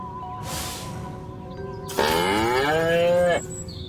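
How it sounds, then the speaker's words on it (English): A cow moos in the Destroy All Humans! video game: one long, loud, drawn-out bovine low near the end, heard alone after a faint tonal game hum. "Again with the moo?"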